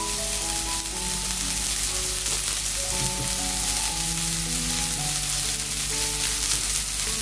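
A burger patty sizzles steadily and loudly in a frying pan just after being flipped, with a continuous crackling fry and no talk.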